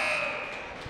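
A basketball end-of-quarter buzzer at a boys high school game between Morgan and Haddam-Killingworth, a loud, steady electronic drone held for the full second.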